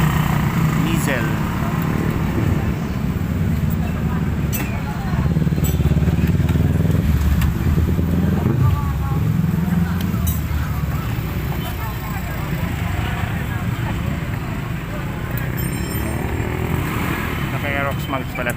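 A Honda Click scooter converted with a Prodigy clutch, Mizzle tires and Aerox mags runs its engine at a steady, buzzing idle throughout, with people talking over it.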